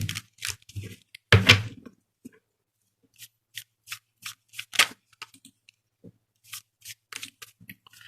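Tarot cards are shuffled and handled in short crisp riffling bursts and soft flicks, scattered irregularly with quiet gaps between them, close and fairly faint, with no speech.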